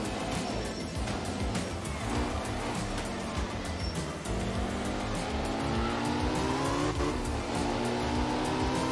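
Porsche rally car in the racing game Art of Rally, its engine revving and changing pitch through gear shifts, with tire squeal and gravel noise, loud and continuous.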